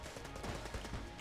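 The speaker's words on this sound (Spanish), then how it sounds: "Otra metralladora, disparo rápido, vamos a probarla." Rapid machine gun fire from the bullet-hell dungeon-crawler video game Enter the Gungeon comes as a dense, fast string of overlapping shots over about a second, fairly quiet overall and with no voices.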